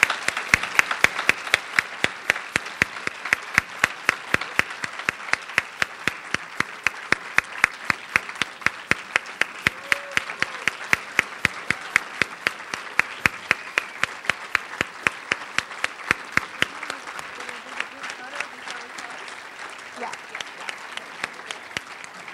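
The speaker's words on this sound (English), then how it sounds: "let's give a round of applause for the Champions Collective" A crowd at a HUD and NeighborWorks America Champions of Change ceremony claps in steady, evenly spaced beats for over twenty seconds. The crisp claps stay loud and close, then thin out slightly near the end.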